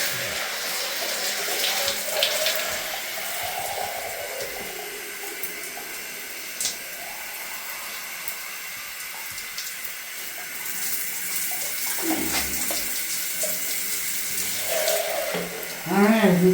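Water runs steadily from a shower tap, a continuous splashing gush with a few small knocks and shifts in the flow and faint background voices.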